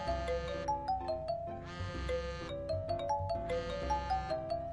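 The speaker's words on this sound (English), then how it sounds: "he felt his cell phone vibrate and heard his ringtone." A cell phone ringtone from the video game Root Film plays a bright, repeating electronic chime melody in loops, clear and alone with no talking.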